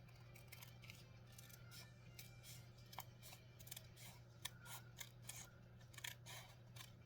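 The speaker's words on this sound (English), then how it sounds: "Where are my scissors?" Scissors snip and cut through paper or fabric in a quick, uneven series of close crisp strokes, quiet and with no talking, while pieces for miniature armchairs and covers are cut out.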